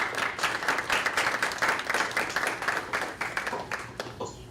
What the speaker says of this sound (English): So maybe the students can give a round of applause for the families and loved ones as well.